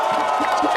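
Crowd at a political rally in Côte d'Ivoire cheering and clapping in a brief, loud burst, with shouts and whoops rising over a dense wash of applause.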